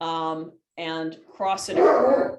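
Several dogs bark and yelp in short bursts, close by, with a person talking over and between the barks.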